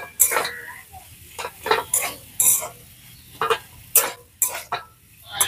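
Spiced potato filling for stuffed bread is mashed and stirred in a pan. A spoon scrapes and knocks against the metal in irregular close bursts, with short pauses between them.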